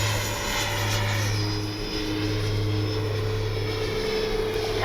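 An FMS 70mm F-18 radio-controlled jet roars past steadily during a touch and go, its electric ducted fan giving a loud, sustained whine with a low hum beneath.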